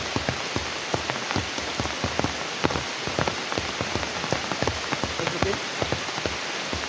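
Steady rain pattering close by on a hard surface, irregular drops tapping over a constant wash of falling water, with no voices.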